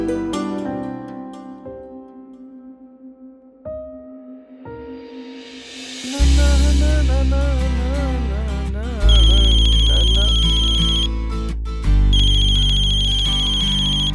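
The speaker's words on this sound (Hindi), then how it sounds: "मन्नू का फोन" A phone ringtone plays a melodic tune that repeats and grows louder, ringing steadily for several seconds.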